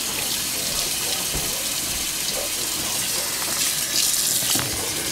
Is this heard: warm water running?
yes